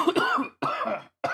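Three short bursts of coughing and throat clearing from a single nearby voice, each lasting a fraction of a second and separated by brief silences.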